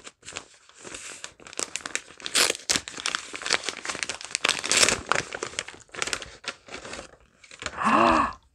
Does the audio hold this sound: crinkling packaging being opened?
yes